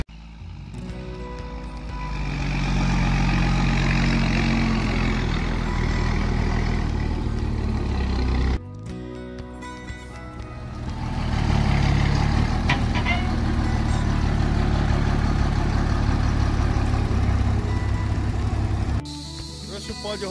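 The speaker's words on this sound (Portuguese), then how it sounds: "vocês já estão escutando o barulho do caminhão" A truck delivering bags of rock dust to a farm runs its engine in a loud, steady low drone, briefly cutting out before rumbling on as it idles close by, with faint voices underneath.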